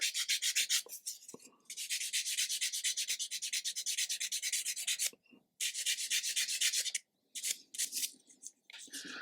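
A 220 grit sanding sponge rubs over a plastic model kit part, an Airfix 1/72 B-17G. Close, rhythmic rasping strokes come in bursts separated by short pauses, with no talk.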